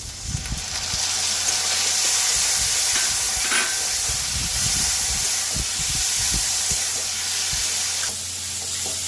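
Tomato puree poured into a hot pan of spiced oil for chickpea curry sizzles and hisses loudly and steadily, with crackling spits and occasional stirring scrapes close by.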